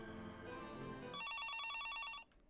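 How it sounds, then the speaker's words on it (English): A telephone rings in a house: a short burst of bright, warbling electronic trills follows a brief stretch of other tones, then stops abruptly. The sound is faint and there is no talking. "The phone was ringing."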